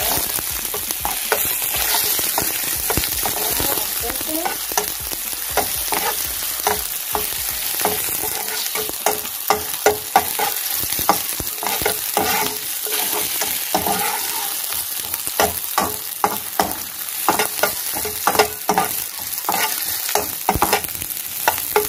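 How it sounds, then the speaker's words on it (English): Onion and pepper fry in hot oil, with a steady loud sizzle and repeated scraping clicks of stirring throughout, no voices. "The oil is hot enough. It's hot enough now. So, firstly, we put the onion and the pepper."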